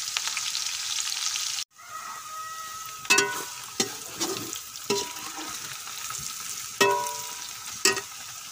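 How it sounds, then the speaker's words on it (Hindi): Onions fry in a pan while being stirred until brown: a soft continuous sizzle punctuated by several sharp spoon scrapes and clinks, close up, with no talking. "में प्याज डालेंगे और प्याज को ब्राउन करेंगे।"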